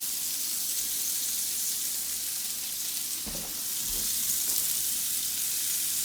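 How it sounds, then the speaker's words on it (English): Beef pieces frying in bacon fat in a pan, a steady close broadband sizzle that runs continuously, with a couple of brief clunks of stirring or turning midway. "Now we're frying it in that bacon fat."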